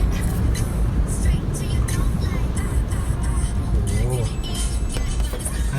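A Suzuki XL7 SUV pushes through half-wheel-deep flood water, with a steady engine rumble and a continuous splashing wash under people talking inside the car.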